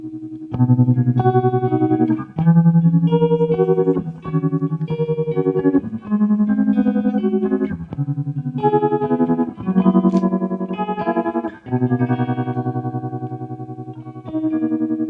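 Chorded guitar tones through an Electro-Harmonix organ emulator pedal with tremolo, organ-like and swirling with gentle pulsing, played continuously in a slow sequence of held chords.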